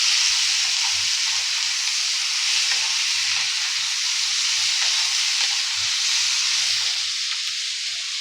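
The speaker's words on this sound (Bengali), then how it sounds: "মশলাটা ভেজে নেব।" Spice mix with salt and turmeric frying in a pan, a continuous bright sizzle and hiss with soft intermittent stirring knocks underneath, close and steady.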